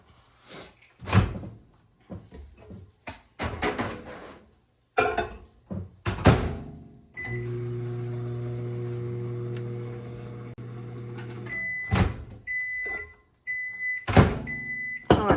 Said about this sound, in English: I'm going to microwave this on 30-second intervals until this is all nice and melted